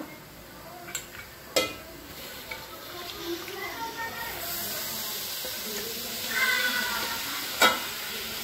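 Chicken pieces dropped into hot oil with spices for a curry tempering, a broad steady sizzle with a few sharp clatters of a utensil, rising louder near the end.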